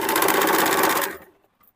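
A sewing machine runs a quick burst of stitching along a kurti seam, a close, fast rhythmic whir lasting about a second before stopping into silence.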